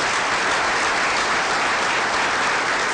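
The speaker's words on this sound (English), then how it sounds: "Let's give them a big round of applause." An audience at a National Black United Front gathering breaks into loud, sustained applause, a dense wash of clapping filling the room throughout.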